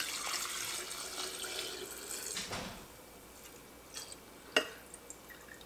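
Liquid is poured from a container over vanilla beans in a jar, a steady close pour and splash that runs for about two and a half seconds and then fades into a few faint drips.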